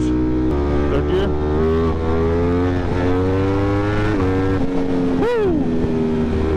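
A 200+ HP motorcycle pulling hard in third gear, its loud, steady engine drone climbing in pitch throughout, heard close from the rider's position.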